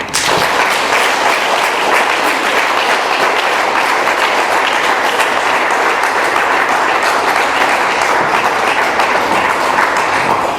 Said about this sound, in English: Let's give Tony one more round of applause